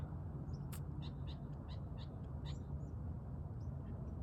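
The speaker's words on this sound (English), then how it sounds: "All these birds are all making noise." Birds in a riverbed give a series of short, faint chirping calls at dusk over a steady low rushing background, some calls close together in a quick run.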